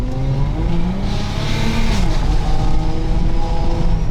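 Car engine pulling hard under full throttle, a steady loud drone with rising and slightly shifting harmonics over road and wind noise, recorded from inside the cabin.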